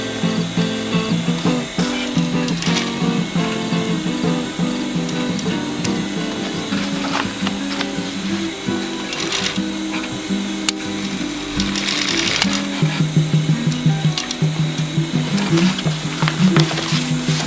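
A sewing machine stitching webbing onto a rollup bag, running in continuous mechanical bursts with rattling needle clatter and brief pauses, close and fairly loud.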